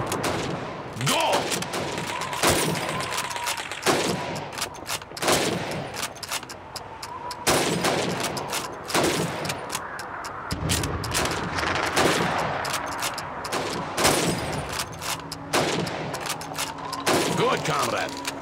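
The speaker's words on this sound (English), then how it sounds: "Now, let's see how well you can do under pressure. You have 15 seconds to shoot the helmets." Rifle shots at helmet targets during Red Army training in Call of Duty 2, a long run of sharp reports at an irregular pace, some overlapping with distant booms, with voices talking throughout.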